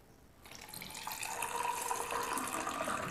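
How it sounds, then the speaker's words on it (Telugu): Milk is poured into a glass over ice cubes for a falooda and lassi, a close, steady liquid stream that starts abruptly and swells into a continuous splashing gurgle as the glass fills. "పాలు పోసుకుందాం."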